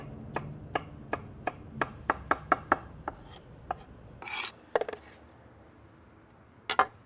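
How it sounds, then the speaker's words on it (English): A knife chops grilled onion on a cutting board in a quick, even series of sharp close taps, speeding slightly before stopping, followed by a brief scraping swipe and a couple of final clicks. "I'm going to slide it here onto the cutting board and chop it into about 1/4 inch pieces."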